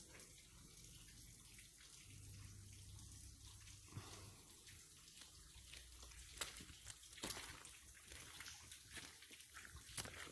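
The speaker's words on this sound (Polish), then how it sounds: "Tu z tunelu też skądś woda płynie ostro." Water flows steadily inside a disused railway tunnel, a faint continuous rushing and trickling with reverberant echo, broken by a few louder sharp taps or splashes.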